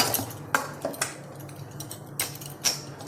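Hot boiled potato is mashed for kofta curry with metal utensils against a bowl, producing scattered sharp clinks and taps over a faint background hum.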